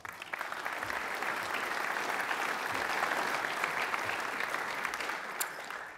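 Steady applause from a school audience at a secondary school awards celebration greets the award presenters, a dense, continuous clapping crowd that holds at an even level for the whole stretch.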